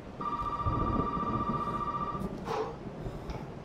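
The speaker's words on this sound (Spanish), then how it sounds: "Suena un teléfono." A telephone rings with a steady electronic tone for about two seconds in the survival horror game Resident Evil 7, faint over a dense, noisy game backdrop, then cuts off.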